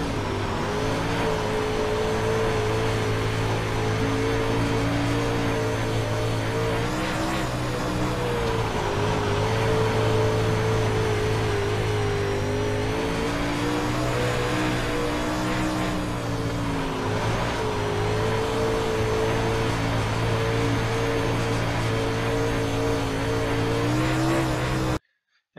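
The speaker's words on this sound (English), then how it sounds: "here's my fastest lap in the UMP Modified." A UMP Modified dirt race car laps Eldora Speedway in the iRacing sim, its engine roaring continuously and loudly, swelling and easing through the turns across the whole lap.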